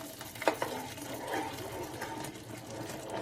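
Semolina cooks in hot bubbling ghee for mango rava kesari, giving a soft continuous sizzle and faint bubbling with a light scrape of stirring, fairly quiet and close.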